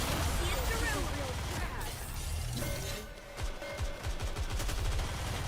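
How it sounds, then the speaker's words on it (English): Loud bursts of gunfire and explosive blasts from the Goddess of Victory: Nikke game, with continuous voices talking over the dense, rapid volleys throughout. "Explosions!"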